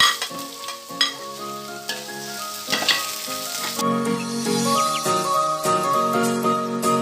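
Sausage sautéing in a pan with onion and garlic for chicken macaroni, a steady sizzle and frying crackle with occasional stirring clinks and tonal background music throughout.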